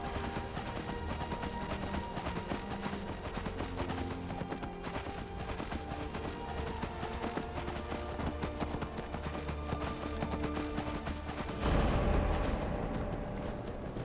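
Horse hooves clip-clop steadily in a snowy video game landscape, a continuous rhythmic trot set within a dense backdrop of game sound, with a brief louder surge near the end.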